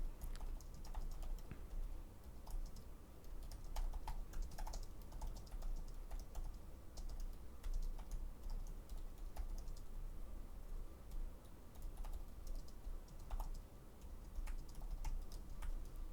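Steady typing on a computer keyboard, with soft rapid key clicks running continuously and faint at close range, and no one speaking.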